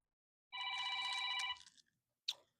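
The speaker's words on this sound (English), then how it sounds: "The phone is ringing." A telephone rings in a bright, steady electronic trill for about a second, then trails off; a brief click or knock follows near the end, with no talk in the clip.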